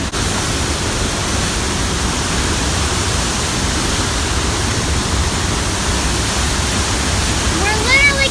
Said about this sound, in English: We're literally going straight down right now to the bottom of the waterfall.